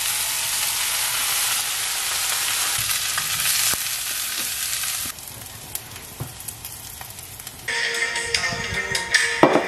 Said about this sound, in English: I'm currently cooking salmon.